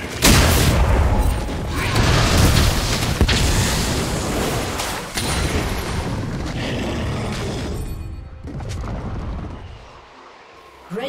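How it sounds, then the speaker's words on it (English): A turret is destroyed in a League of Legends match, producing loud, dense booming explosions and rumbling impacts that run continuously before fading near the end. "Red team's turret has been destroyed."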